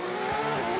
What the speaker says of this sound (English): I hear the drivers revving up